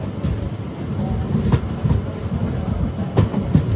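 A train rolls along the rails on the Munroe Island route, a steady low rumble with periodic clacks from the wheels over rail joints, close and continuous without any talk.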